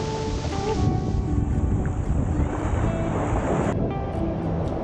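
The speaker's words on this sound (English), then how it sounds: "I tried checking out the waves myself, and boy were they gigantic." Large ocean waves roll in at North Shore, Oahu, a loud continuous wash of surf with heavy wind rumble across the microphone, no talk.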